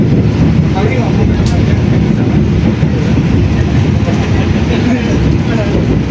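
An Argo Wilis passenger train with New Generation carriages rolls into Leles station, a loud, continuous rail rumble and clatter heard close by.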